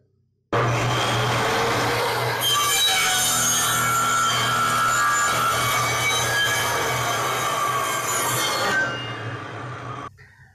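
A table saw runs steadily for about ten seconds while cutting through a piece of wood during a squareness test, its loud motor hum sitting under the rasping blade-on-wood noise before the sound winds down.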